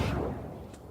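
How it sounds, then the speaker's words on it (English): A single loud gunshot bang cracks at the start and booms out, fading over under a second with nothing after it. "Gunshot."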